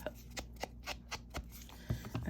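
Scissors snipping through junk mail paper to make pockets for a junk journal, a string of short, evenly spaced crisp cuts close by and quiet, followed by a little paper rustling, with no talking.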